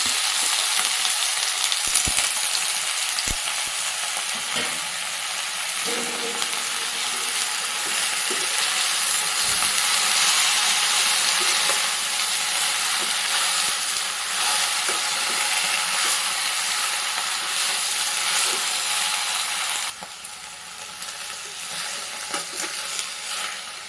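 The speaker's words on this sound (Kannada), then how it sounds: "ಐದು ನಿಮಿಷದ ನಂತರ ಪಾಲಕ್ ಸೊಪ್ಪನ್ನು ಹಾಕಿಕೊಳ್ಳೋಣ" Spinach (palak) frying and being stirred in a pan for palak paneer: a steady, loud sizzle runs throughout with occasional scraping stirs, easing slightly near the end.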